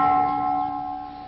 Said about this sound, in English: The toll of the ship's bell reminds us of the respect we owe our departed members of Patrol Squadron One